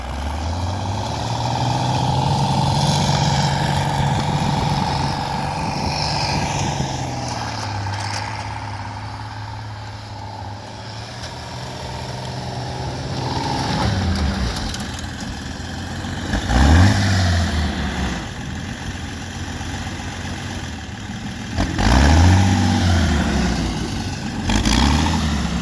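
A Bombardier tracked vehicle's engine idles and rumbles close by, dipping and revving in repeated surges as it is driven in circles.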